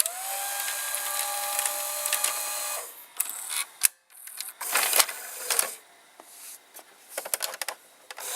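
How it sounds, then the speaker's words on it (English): An MTC MCR 215R VCR ejecting its tape: motor whir with a rising tone, then clicking, clattering gears and latches, close and moderately loud with no talk. "Now I will press eject."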